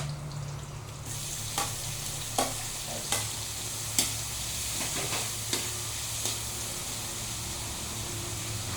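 Ginger and tomatoes sizzle in a hot pan while a utensil stirs them. Steady frying hiss runs beneath regular scraping strokes, each about a second apart, close and moderately loud, with no talking.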